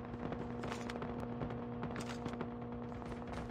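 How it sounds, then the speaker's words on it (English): Rapid overlapping gunfire cracks from many directions in a video game, a dense continuous barrage of shots with a steady hum underneath and no talking. "I'm hearing shots every freaking direction"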